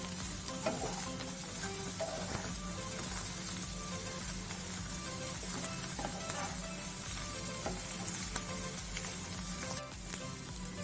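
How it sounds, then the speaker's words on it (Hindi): Shredded cabbage stirred into vegetables frying in a pan for spring rolls, giving a steady, loud sizzle throughout with scraping stir strokes and no voices. "तो अब मैं यहाँ पर मिला रही हूँ पत्ता गोभी।"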